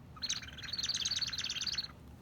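A small Woodstock bird toy lets out a quick run of high electronic chirps, about a dozen rapid tweets in one burst lasting under two seconds, close and clear with no talking.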